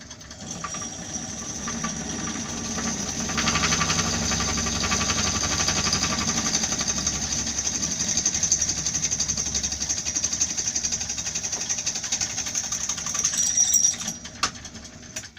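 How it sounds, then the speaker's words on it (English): A drill bores a hole for a shoulder washer in an LED uplight build, a steady close mechanical whir with a ratcheting grind running for about fourteen seconds, then stopping abruptly. "we'll drill the hole for the shoulder washer and see how that fits"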